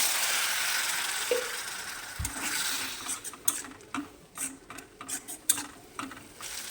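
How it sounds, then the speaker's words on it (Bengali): Spices with a little water sautéed and stirred in a pan over a gas stove while making chicken filling, giving soft wet sizzling with repeated scraping and stirring strokes, close and moderately loud, growing busier toward the end. "মশলা কষানোর জন্য দিয়ে দেবো একটু পানি"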